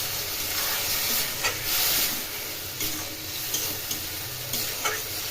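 Turmeric, salt and masala being stir-fried for a lentil fritter curry, a steady close sizzle broken by repeated scraping stirs at irregular intervals, with no voices.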